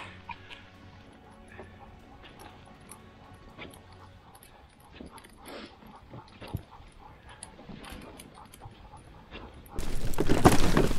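Sled huskies being trained at the start of the winter season whimper and yip in scattered bursts across a wide outdoor space, ending in a loud rush of noise at the very end.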